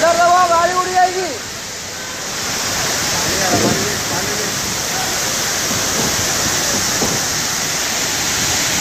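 Heavy water from a burst pipe in Dharavi, Mumbai, pours and splashes down in a steady roaring rush, loud and continuous, with voices talking over it near the start.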